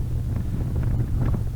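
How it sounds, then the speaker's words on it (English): Steady, dense wind buffeting the microphone on a Harley-Davidson Road King motorcycle on a windy, sunny ride, a continuous low roar with gusty swells throughout and no voice. "And it's really windy today as well."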